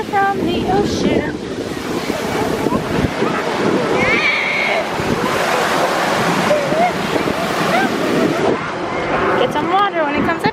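Ocean waves break and wash up on a beach in a steady, loud roar of surf that fills the whole stretch, with children and adults talking and calling out over it throughout.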